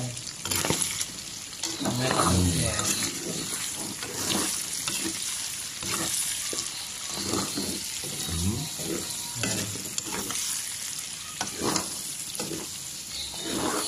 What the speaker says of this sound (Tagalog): Halo-haloin para hindi tumalsik yung taba, yung init at masakit sa balat.